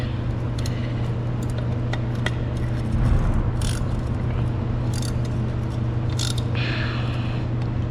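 A ratchet wrench works on a control arm bolt during a rear suspension job on a Mazda 3, giving quick clicking ratchet bursts and metallic clinks over a steady background hum, with no voices.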